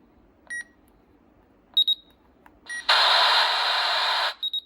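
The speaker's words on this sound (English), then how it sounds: "Can't you do the siren test?" RadioShack 12-254 weather radio running its siren test: a few short electronic beeps, then a loud harsh alert tone for about a second and a half, followed by more beeps, thin and tinny through a small speaker.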